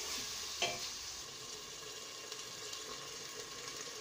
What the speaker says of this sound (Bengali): হালকা একটু নেড়ে দেব।